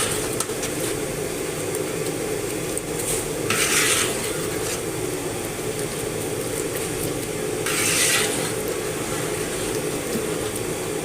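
A spoon scrapes and clinks in a pot while whole garam masala (cinnamon, cumin, black pepper, black cardamom and cloves) is mixed for a commercial-style shahi chicken korma, with two brighter bursts of scraping over a steady kitchen background.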